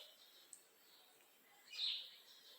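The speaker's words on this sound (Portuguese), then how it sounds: "Aqui na minha casa habitam muitos passarinhos" Small birds living around a house chirp faintly in quiet surroundings, with a brief tweet early on and a louder, short burst of song near the end.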